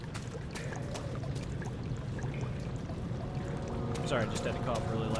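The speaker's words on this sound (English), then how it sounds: "And there's water all over the place." Water drips and flows through a sewer in Amnesia: The Dark Descent, a continuous trickling wash with scattered sharp drips, moderately faint under a low rumble.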